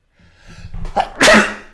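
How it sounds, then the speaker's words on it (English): A single sneeze, preceded by a short intake of breath, then a sharp loud burst close up. "I'm about to sneeze."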